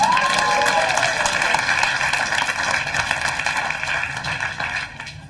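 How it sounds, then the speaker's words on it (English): A comedy club audience applauds a stand-up act with a dense, sustained wash of clapping, with faint cheering mixed in, tapering slightly toward the end. A steady tone also sounds throughout. "Give him a round of applause."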